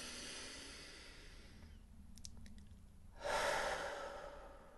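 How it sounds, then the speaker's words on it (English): A slow, deep inhale through the nose, loud and close, follows a brief quiet pause with a few faint clicks. "Breathing in through the nose."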